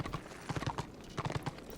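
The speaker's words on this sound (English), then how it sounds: "Good thing they give you a horse to travel on." Horse hooves clip-clop steadily in Warhammer Online while riding across the Norsca area, a quick repeating patter of paired hoofbeats at moderate volume with faint background ambience.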